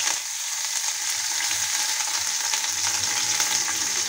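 Small onions and curry leaves sauté in a hot pan with oil, giving a steady, close sizzling crackle that runs unbroken with no voices.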